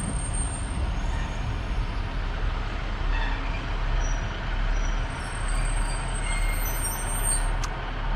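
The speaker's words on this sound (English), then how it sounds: "trains coming in" A steady, loud rumble of a train arriving on a mountain railway at Betws-y-Coed, North Wales, continuous mechanical noise with faint high squeals and a brief hiss near the end; no voices.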